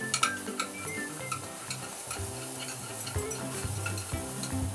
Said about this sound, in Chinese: 来再来把我们的洋葱和蒜头下去稍微的爆香一下